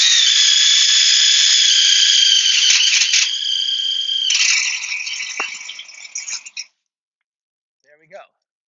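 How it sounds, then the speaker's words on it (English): A power drill with a 1/2 inch bit bores straight through a stair part held in a jig, a loud, steady high whine with a rattle that wavers and fades after about six seconds, leaving near silence. "make sure you keep it nice and straight and drill all the way through"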